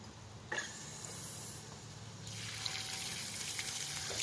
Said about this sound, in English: Can you turn the water on real quick for me so you rinse this off?